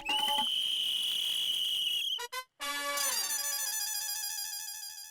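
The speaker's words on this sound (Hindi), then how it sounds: "पुलिस की सीटी की भी कोई वैल्यू नहीं" A shrill police whistle blasts in a scene from the Hindi TV comedy Taarak Mehta Ka Ooltah Chashmah. A long steady piercing tone is followed by a brief cutoff, then fluttering trilled bursts, loud and close, with no talking.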